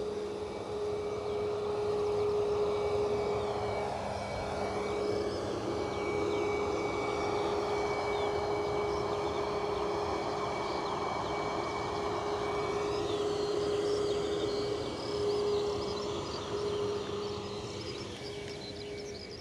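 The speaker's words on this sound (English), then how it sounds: "this Ryanair 737 is off to Prague" A Ryanair Boeing 737 jet at Edinburgh Airport gives a loud, sustained engine roar with a steady whine, close by and holding for the whole stretch before easing slightly at the end.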